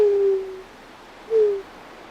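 A man whistles or coos two drawn-out, gently falling tones imitating a dove call, the second shorter than the first, clear and close with quiet outdoors in between.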